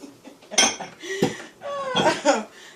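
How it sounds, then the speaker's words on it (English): Plates and cutlery clink and scrape up close in a home kitchen while pilaf is plated, several short bright knocks and rattles bunched together within a couple of seconds. "So let's get this all plated up."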